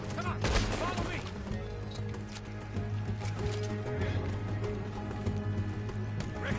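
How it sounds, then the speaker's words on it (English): Horses gallop in a video game, a dense clip-clop of hooves running close, with gunfire and voices mixed in. "See the horses? Come on,"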